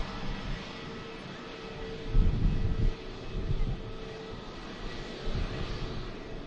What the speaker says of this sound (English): EasyJet Airbus A320neo just landed.